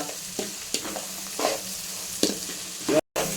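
Onions for lemon rice fry in a pan with a continuous sizzle, punctuated by several sharp scraping stirs at irregular intervals, close and fairly loud, with a brief dropout near the end.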